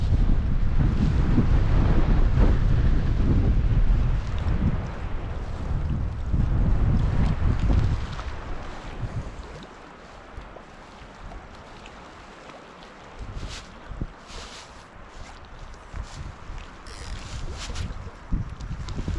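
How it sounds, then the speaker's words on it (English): Strong wind gusts buffet the microphone at an outdoor fly-fishing spot in the Eastern Sierra, loud rumbling blasts in the first half that ease into lighter, intermittent gusts. "And this wind has not let up."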